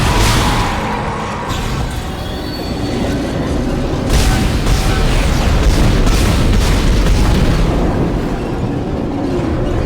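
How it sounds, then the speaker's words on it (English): A loud, sustained explosion roar from the video game Dead Space rumbles with dense low booms, swelling partway through and continuing without voices. "if this were to be the remake, he would have died in that explosion"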